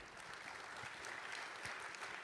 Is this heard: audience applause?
yes